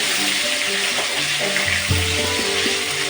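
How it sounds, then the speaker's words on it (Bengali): Pieces of rohu fish fry in a hot kadai with oil, giving a loud, steady sizzle and crackle throughout, broken by a few clinks and bubbling pops, with no one speaking. "মাছটা আমার এক পাশে ভাজা হয়ে গেছে দেখো এখন আমি মাছটাকে উল্টে দেব"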